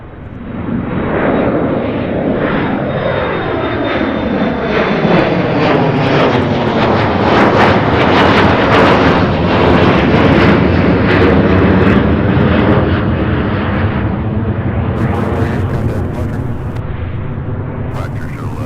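A jet roars loudly down the runway at SDF airport, its rumble and whine sweeping and shifting as it climbs away, steady and close with a voice talking underneath.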